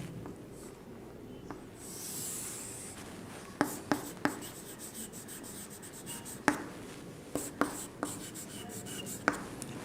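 A pen or marker squeaks and scratches across a board as a table is drawn by hand during a lesson, producing faint rubbing strokes broken by several sharp taps and quick lines, with no voices.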